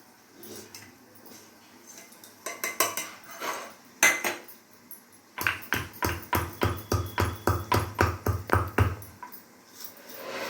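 Masala spices pounded for chicken curry with metal on metal, first scattered taps, then a long even run of loud, ringing blows in fast rhythm close by, with no talking.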